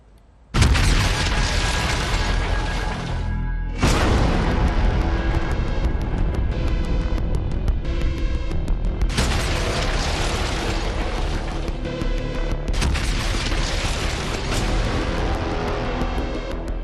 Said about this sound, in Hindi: बम बारूद और धमाके,